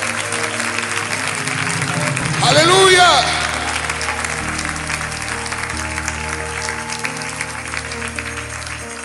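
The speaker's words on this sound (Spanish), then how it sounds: "Dale un aplauso al Señor con todo tu corazón." A church congregation applauds, a dense, sustained crowd clapping that swells briefly while a voice calls out over it, then carries on steadily underneath.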